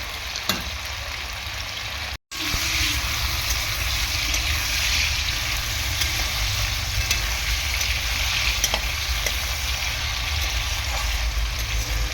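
Potatoes fry in oil in a pan with a loud, dense, continuous sizzle that fills the whole stretch. The hiss breaks off for an instant near the start and then carries on unchanged.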